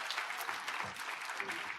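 An audience at a Tucson community breakfast event bursts into applause, a dense, steady, close wash of clapping that fills the moment without any voices rising above it.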